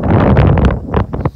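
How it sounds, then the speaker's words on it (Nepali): Strong gusts buffet the phone's microphone on a suspension bridge at Panchakot, Baglung, in a loud rumbling roar that rises and dips for a moment. "हावा चल्यो डेन्जर गाई छ हावाले मोबाइलै हल्लाइदियो"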